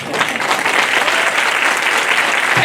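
Audience clapping steadily and loudly throughout at a business club honour event, a dense, sustained wash of applause with no voices standing out.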